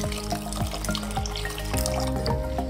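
Cornflour mixture for Bombay halwa is poured little by little into a pan, giving a close, steady liquid trickle with small splashes and drips.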